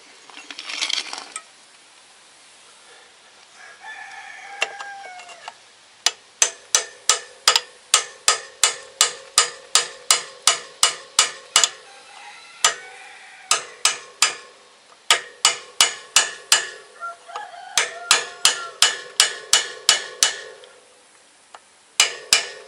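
Bicycle bearing keeper being tightened with a tool, making a long run of sharp metallic clicks in steady rhythm, close and fairly loud, with a few brief pauses and no talking.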